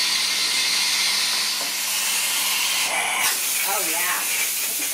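Continuous loud hiss from a Pur Steam Therma PRO 211 steam cleaner close by, with brief gurgling sputters and faint background voices.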